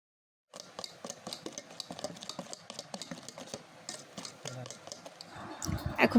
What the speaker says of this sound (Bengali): তেল দেওয়ার পর এখন অল্প কিছুক্ষণ ফেটে নিলেই হবে।